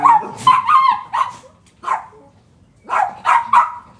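A dog on a balcony barks in loud, close bursts, several clustered yaps, then a pause and another rapid run of barks, with no talking.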